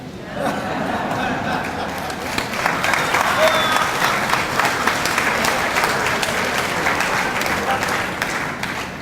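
A congregation applauding at a 40th anniversary Mass, dense continuous clapping that swells and holds for several seconds, with a few voices and a reverberant room feel.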